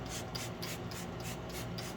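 Steady, rhythmic scrubbing of a scrub pad against a car seat's upholstery, brisk back-and-forth strokes close up with no voices.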